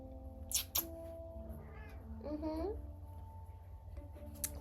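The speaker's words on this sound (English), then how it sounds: "My cat is in here." A pet cat indoors gives one short meow partway through, rising then falling, over a steady background hum with a couple of sharp knocks nearby.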